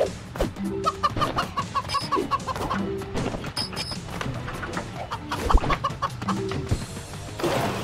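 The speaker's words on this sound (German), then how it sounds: "Vor allen Dingen, weil die Hühner hier wieder den Ausgang blockiert haben." Cartoonish chickens cluck and squawk repeatedly in the video game Moving Out, bursts of clucking scattered among thumps and bumps of gameplay sound effects, with no speech.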